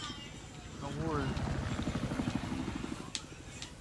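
A helicopter flies in Battlefield 4 gameplay, its steady rotor chop pulsing loudly through the clip beneath players talking over voice chat, with a couple of sharp in-game cracks near the end.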